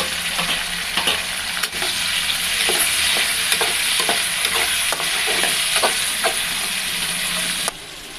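Chopped tomatoes hit a hot pan of cooking onions and crabs, giving a loud, steady sizzle with repeated scraping stirs at a close, regular rhythm before the sizzle drops back slightly at the end.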